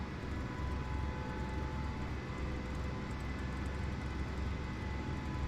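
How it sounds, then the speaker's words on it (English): Aircraft engine roaring steadily at high power in Microsoft Flight Simulator 2020, a dense, continuous rumble with a faint whine, constant and loud throughout with no talking. "He's giving too much power, the aircraft cannot handle it."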